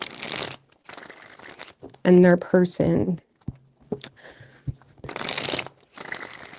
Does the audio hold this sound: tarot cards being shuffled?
yes